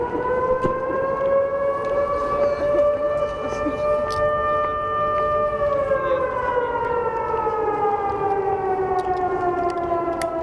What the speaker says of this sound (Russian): Сирен, подобных той, которую вы сейчас слышите